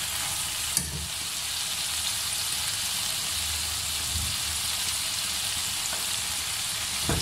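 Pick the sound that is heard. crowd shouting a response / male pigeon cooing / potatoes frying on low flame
potatoes frying on low flame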